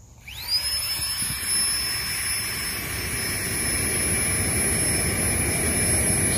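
Flextail Tiny Pump, a small portable air pump, spinning up with a rising high-pitched whine that settles into a steady, loud, close electric whir with a constant shrill tone and airy rush.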